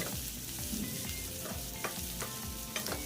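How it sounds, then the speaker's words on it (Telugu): Onions and green chillies frying in a pan, a steady close sizzle broken by rhythmic scraping strokes as they are stirred, with no talk. "చక్కగా వేయించేసుకోండి అదే ప్యాన్లో వేయించుకోండి"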